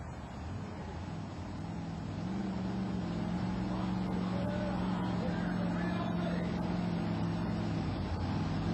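Monster truck engines at a 1991 USHRA show in Uniondale, NY rumble and rise as the trucks stage up, a loud, sustained roar with a crowd-filled arena echo.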